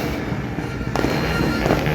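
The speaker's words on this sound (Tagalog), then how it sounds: "Oh, fireworks." New Year's Eve fireworks crackle and pop in a dense, continuous barrage, with a louder burst midway and steady booming underneath.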